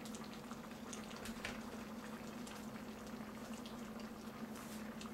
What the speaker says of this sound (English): this, I'm going to let it boil